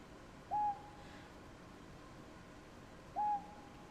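Two identical soft, clear hoots from a lone owl in the Hakuoki video game sound about three seconds apart over a quiet, steady ambient background.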